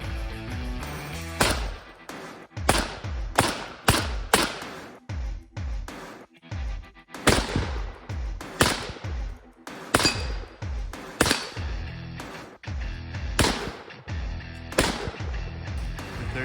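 AK-47 rifle firing a long series of sharp, loud gunshots at close range, some in quick pairs and some spaced apart, each followed by a brief echoing decay, with no talking.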